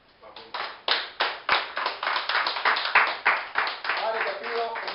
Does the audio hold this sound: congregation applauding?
yes